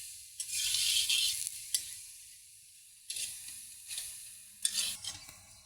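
Pumpkin seeds fry in a pan, crisp sizzling hiss rising in several bursts as they are stirred and pressed, with quieter pauses between, close and alone without talk.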